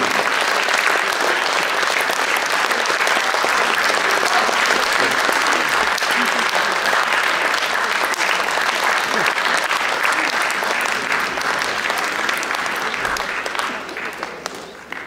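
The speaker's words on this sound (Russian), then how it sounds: "Дорогие друзья, провожаем аплодисментами наших замечательных поклонников." An audience at a concert marking the 25th anniversary of the Soviet withdrawal from Afghanistan applauds loudly and steadily, a dense, sustained clapping that holds its level before tapering off near the end.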